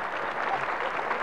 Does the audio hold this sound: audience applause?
yes